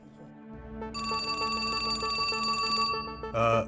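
A telephone rings steadily with a bright, continuous electronic trill lasting a few seconds, loud and close, then cuts off into a brief noisy burst.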